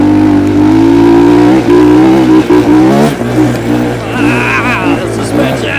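A Trailmaster TM 31 trail bike engine runs close by, holding a strong steady drone and then revving up and down, with a person talking over it.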